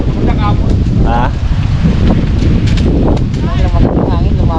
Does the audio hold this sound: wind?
yes